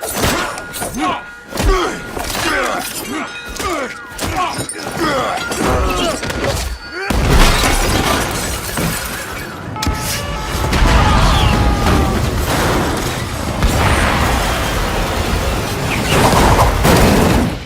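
Action-film combat plays out with rapid bursts of gunfire and heavy thuds in the first half, then a loud explosion from a detonated grenade, followed by dense crashing, rumbling debris and chaotic noise.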